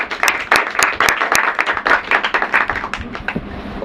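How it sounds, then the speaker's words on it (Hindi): A church congregation bursts into loud, sustained clapping during an Urdu-language sermon, many hands striking in a dense, uneven patter that continues strongly throughout. "जोरदार ताली बजाएंगे।"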